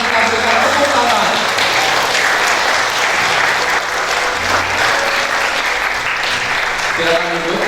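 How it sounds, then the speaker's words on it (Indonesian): Wedding guests applauding at a church blessing ceremony, a loud continuous crowd clapping that fills the whole stretch, with voices and music faintly underneath. "Kita menyambut dengan penuh sukacita dan kita berikan tepuk tangan."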